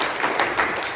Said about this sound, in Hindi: एक बार हम तालियां बजाकर